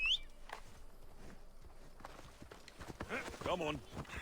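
Horse hooves clop in the video game Assassin's Creed Odyssey, soft uneven footfalls under game sounds, with a voice speaking briefly near the end.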